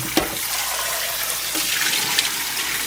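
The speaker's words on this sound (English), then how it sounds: "So you want to rinse it about 2 or 3 times" Oxtail meat is rinsed under running tap water, giving a steady, close splashing hiss of water from the faucet with a few small knocks and no voices.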